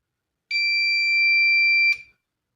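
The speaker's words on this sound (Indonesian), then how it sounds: "LED, buzzernya berbunyi" A DIY fire alarm buzzer sounds one steady, piercing electronic tone for about a second and a half, close and clear, ending with a brief click in an otherwise quiet room.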